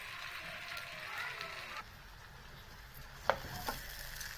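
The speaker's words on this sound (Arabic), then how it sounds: "شايفين الطشطشه بتاعت الرز كده وهو بيتشوح" Egyptian rice sizzling as it is sautéed in a hot pan, a steady soft crackle running throughout, with a couple of sharp utensil clicks against the pan near the end.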